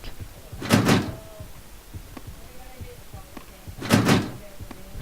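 Locked doors in the video game 7Days rattle and bang twice, each a dull, heavy thump several seconds apart over a low, hollow ambient hum.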